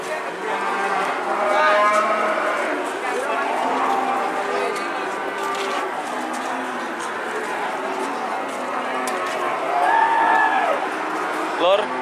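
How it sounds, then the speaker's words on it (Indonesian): Thin cattle low and moo repeatedly at a busy livestock market in Java, with several overlapping calls near and farther off beneath ongoing talk. "di pasar hewan Sionarjo itu banyak sapi kuru"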